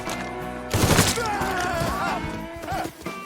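A burst of gunfire in the Mafia 3 video game, a rapid cracking volley over a musical score, with a shouted voice nearby and a few more scattered shots afterward.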